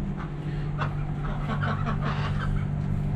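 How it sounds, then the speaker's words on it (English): A flock of ducks calls in the background at a workshop, a steady clattering chorus of honks and quacks throughout, moderately close and without talk. "If you're wondering what noise in the background, this is all the ducks."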